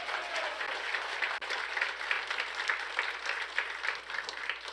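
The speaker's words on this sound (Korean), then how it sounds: "박수 한번 쳐 주님께" A church congregation at a Sunday morning worship service applauds together, a steady, dense patter of many hands clapping that stays even and moderately loud for the whole stretch.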